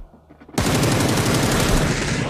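Sustained rapid automatic gunfire in a video game shooter erupts abruptly after a quiet half-second and continues loud and dense to the end, with no talk over it.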